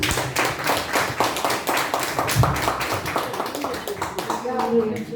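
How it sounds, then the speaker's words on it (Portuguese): A church congregation at a restoration service claps hard and rhythmically for Jesus, a steady run of loud beats with voices and singing mixed in. "Bate umas palmas bem fortes para Jesus."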